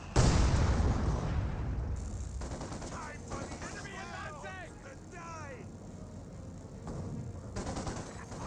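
120mm mortar fire in the World War II strategy game Company of Heroes 2, a heavy blast rumbling at the start and then tailing off under battlefield noise while a commentator talks.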